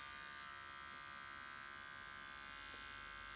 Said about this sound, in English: second option with a beard trimmer, I'll show you a demonstration.